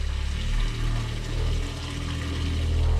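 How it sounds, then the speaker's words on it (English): Water runs steadily from an RV tap during winterization, a continuous close splashing hiss with a low pump-like hum underneath. "turn the hot water on, and you can see there's just regular water coming out there"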